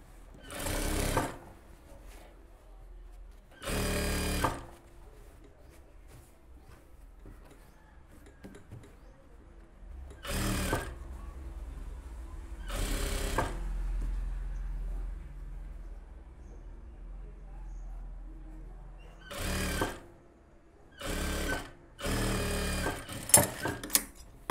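A sewing machine stitches a puff sleeve in several short bursts of rapid whirring, separated by quiet gaps with faint handling noise, heard close by.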